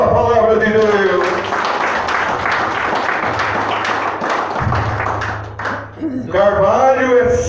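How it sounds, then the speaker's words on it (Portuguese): A church congregation breaks into applause at a Portuguese-language service, sustained clapping that runs for several seconds. A low sustained tone sits underneath, and a voice speaks over it near the start and again at the end. "Dê uma linda salva de palmas à palavra de Deus."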